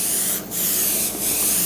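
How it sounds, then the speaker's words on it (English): A steady, loud airbrush hiss spraying pink food color onto a cake top continuously, with two brief dips in pressure before resuming. "I'll go ahead and hit it with a light"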